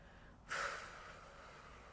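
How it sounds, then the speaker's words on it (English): After a moment of quiet, a single breathy exhale through the mouth rushes out and slowly tapers off. "Make some sound here when you exhale"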